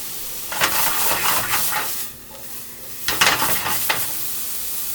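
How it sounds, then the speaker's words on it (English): Rice sautéing in a pan, with a soft steady sizzle and two bursts of stirring and scraping against the pan, close by. "Just want to get this nice and sauteed to cook."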